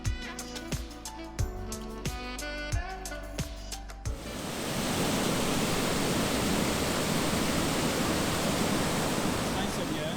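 Small Church waterfall in Beskid Sądecki, Poland: a steady, loud, broadband rush of falling water fills the second half, preceded by a few seconds of rhythmic music with percussive hits.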